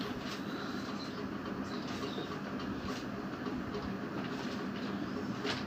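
A long train rolls past at steady, close range, with continuous rumble and wheel clatter filling the whole stretch and no break in the noise.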